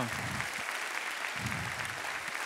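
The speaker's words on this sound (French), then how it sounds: "qu'on applaudisse aussi l'équipe de tournage" Steady applause from a conference audience fills the whole stretch, dense and even, with a faint low murmur of voices underneath.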